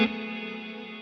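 Guitar played through a Walrus Audio Mako R1 reverb pedal on its hall setting: a struck note or chord blooms and then rings on as a smooth, sustained, gently decaying wash, heard alone without talk.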